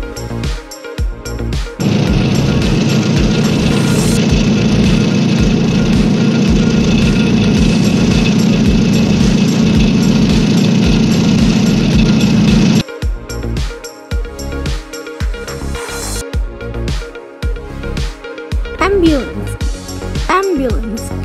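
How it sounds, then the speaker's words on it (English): A heavy bulldozer engine rumbles loudly and steadily for about ten seconds, a deep low drone that stops suddenly. "Bulldozer. Bulldozer."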